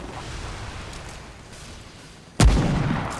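A single sharp gunshot rings out in the video game Remnant from the Ashes, punching through a low ambient background near the end and trailing off with a short echo.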